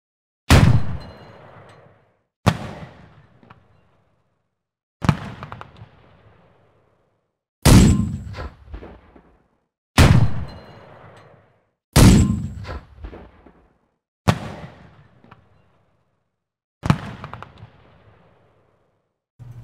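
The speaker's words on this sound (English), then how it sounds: "So let's check out the 20mm KWK-30." Single shots from the 20mm KwK 30 tank cannon in War Thunder, eight loud booming reports at roughly 2.4-second intervals, each with a sharp crack and a long rumbling decay, no talk.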